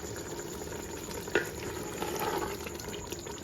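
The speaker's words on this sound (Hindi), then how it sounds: "थोड़ी देर हम इसको खोलकर हाई फ्लेम पर भून लेते हैं" Minced meat keema frying uncovered on a high flame for an Old Delhi kachri keema, a steady bubbling sizzle with one sharp clink partway through, close and moderately loud.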